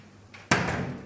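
A furniture locker door swings shut into its carcass, giving one firm, close thump that leaves a short broad-band tail, with a faint rustle just before it.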